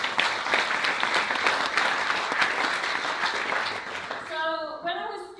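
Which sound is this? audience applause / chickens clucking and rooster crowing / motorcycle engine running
audience applause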